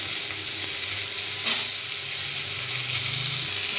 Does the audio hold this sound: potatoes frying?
yes